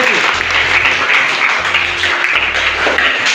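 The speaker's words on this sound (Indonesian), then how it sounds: "Oke, tepuk tangan dulu untuk Keti." A class at a high school applauds a student named Keti during a physical education lesson. The clapping is steady and fills the whole stretch, with a low hum and some voices underneath.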